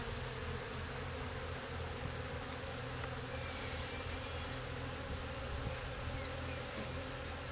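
Honey bees from a cutout colony pour out as a screen is pulled and they are let into a hive, a dense, steady buzzing swarm that fills the whole stretch at close range, with no talking.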